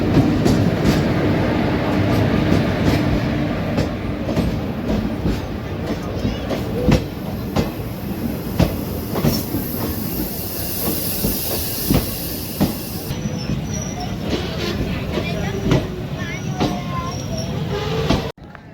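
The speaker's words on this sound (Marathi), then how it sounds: "प्लॅटफॉर्म नंबर 1 वर मनमाड धर्माबाद मराठवाडा एक्सप्रेस आलेली" A Marathwada Express pulled by a WAP-7 locomotive stands at platform 1 on the Manmad–Dharmabad route, giving a steady loud rumble and hiss with repeated clanking knocks throughout.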